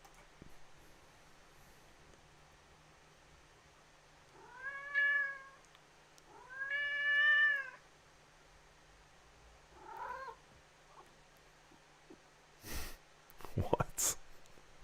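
A deaf cat meows in a video played back on a device: three drawn-out, wavering meows spaced a few seconds apart, fairly clear over quiet background noise, followed by a few sharp clicks and thumps.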